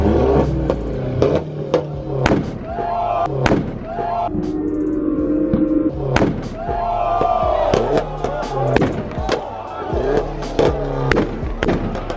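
A BMW M3 on two-step launch control blasts out loud, rapid exhaust pops and bangs in an irregular burst rhythm over a revving engine, close and harsh, with faint voices around it.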